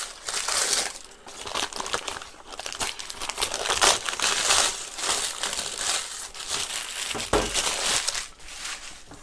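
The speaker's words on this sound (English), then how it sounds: "then I'll just rip off all the excess paper" Excess parchment paper is torn away from a springform cheesecake pan after the ring is clipped in place, giving a loud, continuous crinkling and ripping rustle with bursts of sharp tearing, close up and without any talk.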